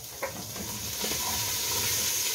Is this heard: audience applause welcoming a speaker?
no